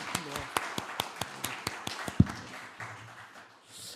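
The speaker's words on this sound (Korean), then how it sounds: "한번 일어나 주시면 한번 축복의 박수, 격려의 박수, 축복합니다" A church congregation at a Sunday worship service claps in a steady, evenly spaced rhythm of blessing and encouragement, with a voice talking over the beats before they trail off.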